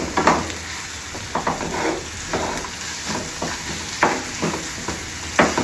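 Mango pieces frying in a pan for mango rava pulihora, giving a steady soft sizzle with occasional louder stirring scrapes, close and alone.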